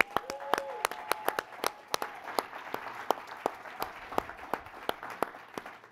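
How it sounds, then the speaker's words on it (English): Scattered, fairly sparse clapping from a modest audience at a healthcare disparities talk, sharp individual claps repeating unevenly for about six seconds at moderate loudness, with a faint tone briefly sounding early on. "Can we give him a round of applause?"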